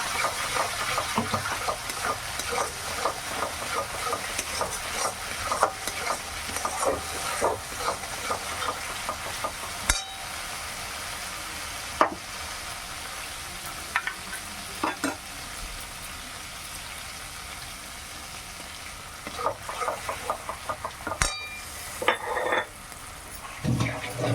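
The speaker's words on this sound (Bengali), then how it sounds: "ততক্ষণ আমি সর্ষেটা কষিয়ে নেব।" Mustard paste fries in oil with a low crackling sizzle broken by intermittent stirring clicks and knocks of a utensil against the pan, close by and uneven in loudness, while cooking aam kasundi shol.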